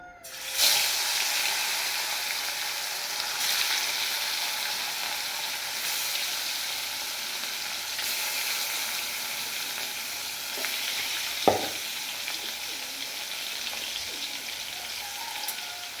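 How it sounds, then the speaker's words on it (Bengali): Pieces of katla fish frying in hot oil in a wok, a loud continuous close-up sizzle like heavy rain with a few faint utensil clicks, no voices. "তেলের মধ্যে এই কাতলা মাছগুলো এবার আমি লাল লাল করে ভেজে নেব।"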